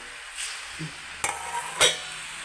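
Moong dal murukku frying in hot oil, a soft steady sizzle with a couple of sharp metallic clinks from a utensil against the pan.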